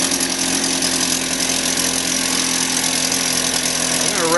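A 1952 Mercury KH7 10 HP outboard engine running steadily close by, a loud, even buzzing drone with a fast rhythmic vibration, alone without talk and rising slightly at the very end.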